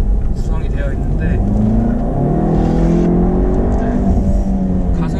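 Jaguar E-Pace gasoline engine pulls hard uphill, a loud, steady engine roar climbing in revs inside the cabin, with someone talking briefly over it.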